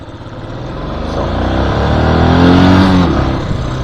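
A Royal Enfield Classic 500 motorcycle engine revs loudly up close, its deep thumping note swelling to a strong peak and easing slightly, with no talking over it.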